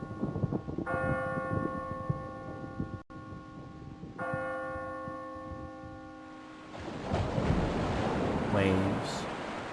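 Ocean waves sound effect from a radio station, a broad washing surf swelling after two long ringing bell tones, steady and moderately loud.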